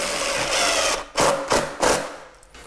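A power driver runs screws into a foam panel to hold it in place while adhesive cures, with a steady whirring buzz followed by three short, loud bursts of driving, close by with no talking.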